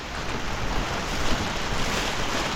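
Rain keeps pouring in a continuous, loud rush, a dense steady wash of noise close by with no voices over it.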